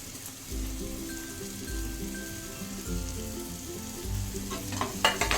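Ginger garlic paste and coriander powder frying in a pan for cashew curry, a steady close sizzle with stirring scrapes and small crackles building toward the end, no voices.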